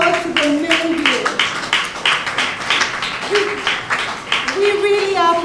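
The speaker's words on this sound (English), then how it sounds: "So let's give an applause to the men here." Scattered, uneven clapping from an audience at an anniversary symposium, individual claps audible in irregular bursts beneath a voice that keeps speaking throughout.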